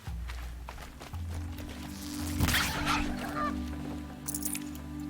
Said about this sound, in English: There's a goose here.